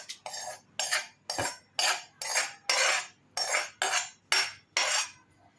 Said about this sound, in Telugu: ఇలా తయారు చేసుకున్న పోపును ఈ పొడిలో వేసి కలుపుకోవాలి